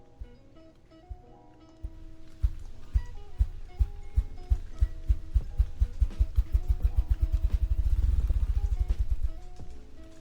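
A deep, low drumming of thumps that start slowly, then speed up into a rapid roll before stopping, with music faintly in the background.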